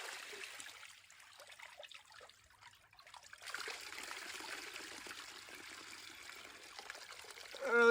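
Water and pan material are poured into a 5-gallon pail, a soft trickling pour that falls quiet briefly, then resumes as a steadier stream, ending in a louder splash.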